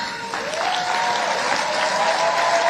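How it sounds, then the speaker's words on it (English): A crowd at a Teacher of the Year awards ceremony gives educators a big round of applause, a full, even wash of clapping that holds loud for the whole stretch, with a faint tone running underneath. "give them, everybody, all of our Anthony educators here, a big round of applause, please"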